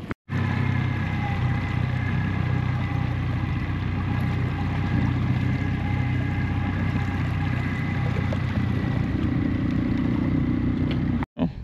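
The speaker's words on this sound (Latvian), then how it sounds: "Tā kā pārbaudam motors." Outboard motor on a fishing boat running steadily at close range, a loud continuous engine drone with water churn that holds constant for about eleven seconds, alone without talk.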